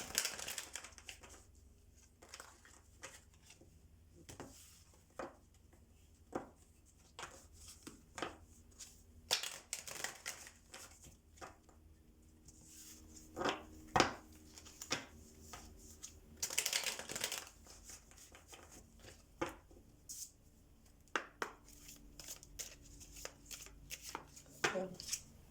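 Oracle cards are shuffled for a reading, producing repeated crisp riffling and tapping bursts in an uneven rhythm, close but fairly quiet, with pauses between handfuls.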